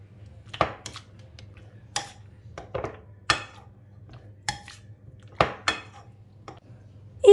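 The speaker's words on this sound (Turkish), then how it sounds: "Şimdi patates püresi ezeceğimle bal kabağını iyice eziyorum ve daha sıcak." Cooked pumpkin mashed with a metal potato masher in a pot, a series of soft squelching presses and sharp clinks against the pot at an uneven rhythm over a low background hum.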